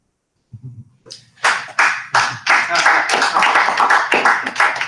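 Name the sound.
people clapping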